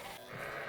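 A sheep bleats briefly amid farm-animal ambience, a short, fairly close call with no one talking.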